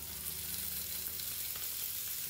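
Oil sizzling and frying steadily in a pan while fish curry is being cooked, a dense continuous crackle at close range with no talk over it.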